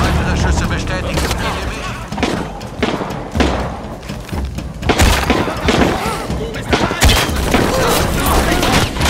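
Loud gunfire in Shadow of the Tomb Raider with heavy thumps and booming impacts, dense and continuous, mixed with voices talking in German throughout.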